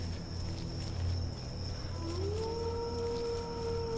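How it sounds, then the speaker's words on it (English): Wolves howling in an indie horror video game, a long rising howl emerging midway over a low, droning ambient background, no talking. "There's wolves."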